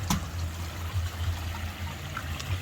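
A koi pond shower pump running at full power sends water rushing steadily through the filter, a constant mid-level trickling flow with no breaks.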